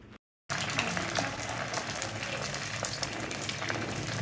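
Eggs frying with onion in a pan, a continuous crackling sizzle at moderate level that starts after a brief silent gap and runs steadily to the end.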